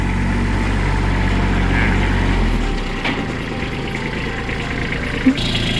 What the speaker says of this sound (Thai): เปิดเครื่องขึ้นมาแล้วนะครับ